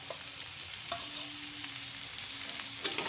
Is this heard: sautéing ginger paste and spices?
yes